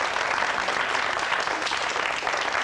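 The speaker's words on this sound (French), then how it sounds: "Je crois qu'on peut vraiment applaudir Rino Baldi qui nous a fait ses tours de magie" A television studio audience applauds a magician who has just performed tricks on set, a steady, even patter of many hands sounding moderately close and continuing without a break.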